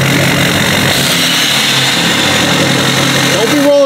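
A big Duramax diesel truck engine starts and rumbles loudly up close, settling into a steady, gruff idle.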